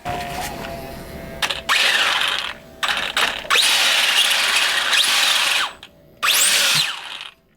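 An Arrma Granite 4x4 brushless VXL 3S RC car motor whines in short bursts of revving, each lasting about a second, close and fairly loud, with brief gaps between throttle blips.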